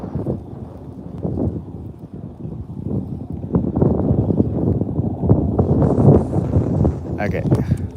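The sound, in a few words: gust of wind while fishing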